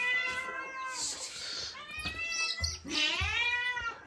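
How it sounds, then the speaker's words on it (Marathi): A cat meows repeatedly at close range in a home, its drawn-out, wavering cries following one another in an uneven run with short gaps between them, loud and clear, with no talking over them. "तुला दुसरी पण आली मांजर."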